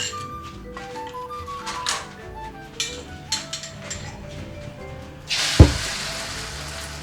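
A Thai kai jiao omelette fries in a pan with a steady sizzle, a few soft knocks of a utensil, and one sharp thump followed by a louder burst of sizzling near the end.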